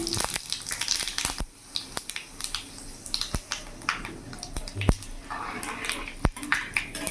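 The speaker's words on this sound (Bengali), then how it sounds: "এর মধ্যে 5 ফোড়ন আর শুকনো লঙ্কা ফোড়ন দিয়ে দিলাম" Panch phoron and dried red chillies crackle in hot oil for a Bengali vegetarian taro and Malabar spinach ghonto, giving scattered sharp pops and snaps over a steady low sizzle, fairly close.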